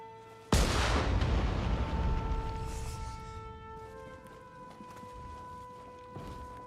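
A cannon booms once with a loud, close blast in the video game Nioh 3, its roar decaying over several seconds beneath the game's music, with no talk.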